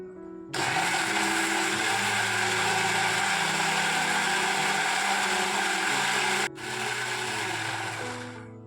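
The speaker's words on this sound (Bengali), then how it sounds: "এবারে মিক্সিতে খুব ভালো করে ব্লেন্ড করে নিতে হবে" Mixer grinder blending raw mango, cumin, coriander and a whole green chili for aam panna: a loud, dense motor roar runs for several seconds, cuts off briefly, then starts again and continues.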